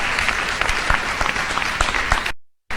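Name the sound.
applause for third-place winner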